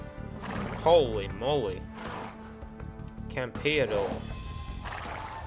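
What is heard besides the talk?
horse neighing and hooves in Age of Empires II video game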